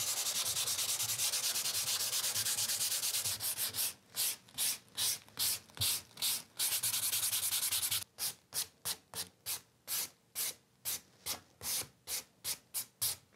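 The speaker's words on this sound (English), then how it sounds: "now I'm going to go over this stencil and lightly sand it for a faded look" Sandpaper rubs over a stencilled design on painted furniture, first a continuous scratchy scrub, then quick rhythmic back-and-forth strokes with short gaps, close and alone with no voice.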